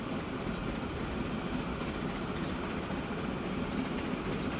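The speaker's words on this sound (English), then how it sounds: "That is a pretty train." Continuous rumbling roll of a long Baldwin 2-8- steam freight train in the Transport Fever 2 game, a steady mid-level drone with faint rhythmic clatter and no talk.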